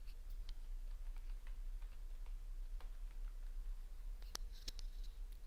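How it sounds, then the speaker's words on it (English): Keys click faintly as a prompt is typed into MidJourney on a computer keyboard, scattered soft taps over a low hum, with a quick cluster of sharper strokes near the end. "So let's type."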